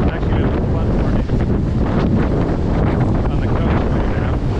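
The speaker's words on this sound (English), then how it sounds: "Just a very rainy, windy day." Strong gusting wind buffets the microphone on a rainy Lynn/Swampscott waterfront on the North Shore during a flood warning, a loud continuous roar with surf-like wash, as a person talks beneath it.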